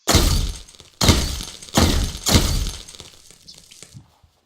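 Repeated gunfire shattering destructible objects in the video game Avenge: four loud crashing bursts of breaking debris about a second apart, the last fading into scattered small clatters, with no voices.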